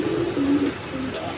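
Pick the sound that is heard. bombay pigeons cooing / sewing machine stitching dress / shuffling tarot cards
bombay pigeons cooing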